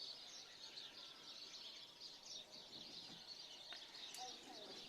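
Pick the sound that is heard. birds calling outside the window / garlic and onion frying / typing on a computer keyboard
birds calling outside the window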